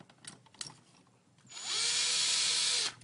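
A power driver runs steadily for about a second and a half while tightening the screws on a reinstalled wall outlet receptacle, loud and close, with a rising whine after some quieter handling noises.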